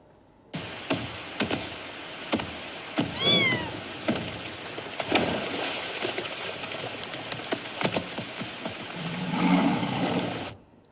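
A cute kitten meows in an AI-generated scene with a big tiger, with a clear rising meow standing out over scattered rustles, thumps and light splashing-like noises.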